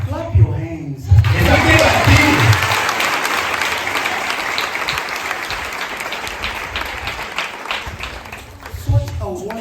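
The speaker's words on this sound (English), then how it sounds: "Clap your hands." A congregation claps and applauds loudly and steadily for several seconds, dense and sustained, with a voice speaking briefly before the clapping starts and again as it tapers.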